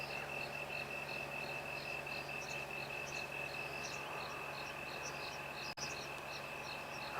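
Insects call and a frog croaks now and then at sunset on an African safari. A dense, steady chorus of trills and chirps fills the air, with faint croaks scattered through it and a single brief click near the end.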